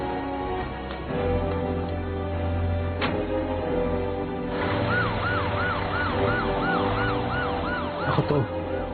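Ambulance siren in the anime Hunter x Hunter, Tagalog dub: a low vehicle rumble runs first, then a loud, rising-and-falling wail sweeps repeatedly over it for the second half.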